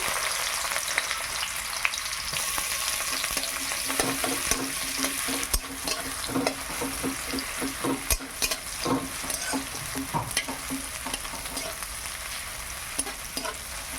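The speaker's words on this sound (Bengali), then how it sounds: "তেলটা গরম হোক, তারপরে পেঁয়াজ দেব।" Onions sizzling in hot oil in a kadai, a dense continuous fry close up with intermittent stirring clicks and scrapes throughout, loud and steady with no speech over it.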